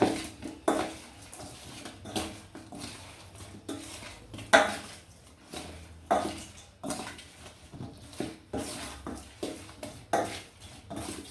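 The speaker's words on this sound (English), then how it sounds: "I'll have to mix it gradually for all the spices to incorporate" Potato wedges tossed with spices in a bowl, giving a string of irregular clattering knocks and scrapes against the bowl, fairly close and moderately quiet, with no speech.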